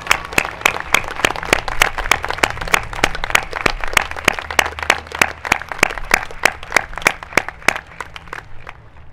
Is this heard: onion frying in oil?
no